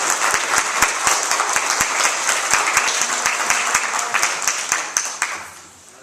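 A congregation at a Mother's Day church service applauds the mothers present: a dense, steady round of clapping with sharp individual claps standing out, holding strong before fading away over the last second.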